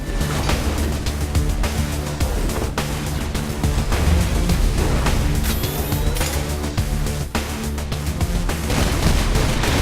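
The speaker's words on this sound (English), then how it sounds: "And now we're going to pull out one of our secret weapons, the White House turret." A White House turret fires in the video game Saints Row IV, with dense continuous gunfire and explosive booms forming a loud, steady barrage throughout.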